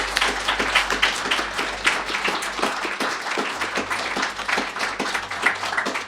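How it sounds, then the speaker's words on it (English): A live audience applauds steadily throughout, dense clapping from many hands with a few louder claps standing out, continuous and fairly close. "So can we please have a round of applause for Emily and Ralph?"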